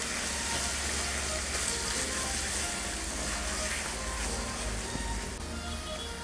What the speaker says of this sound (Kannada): ಈರುಳ್ಳಿ ಸ್ವಲ್ಪ ಫ್ರೈ ಆದಮೇಲೆ ಚಂದ ಉದ್ದಕ್ಕೆ ಹೆಚ್ಚಿರುವಂಥ ಟೊಮೊಟೊ ಹಾಕ್ತಾಯಿದ್ದೀನಿ